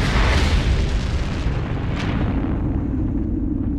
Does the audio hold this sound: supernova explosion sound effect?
yes